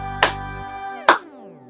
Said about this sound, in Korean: 도미노 박수를 전달할 때에는 박수의 숫자뿐만이 아니라 박자도 정확하게 전달해야 됩니다.